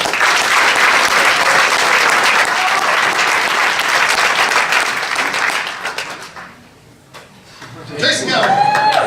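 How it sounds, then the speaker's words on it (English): Loud, sustained applause from a banquet audience at a high school wrestling banquet honoring a senior wrestler, steady clapping for about six seconds, then fading briefly before picking up again with some voices. "Please give a round of applause"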